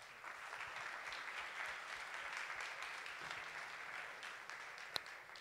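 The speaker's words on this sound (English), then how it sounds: "So give a big applause to Mr. Soria." Audience applause for a speaker at a conference: steady, moderately distant clapping from a crowd that holds evenly throughout, with one sharper clap standing out near the end.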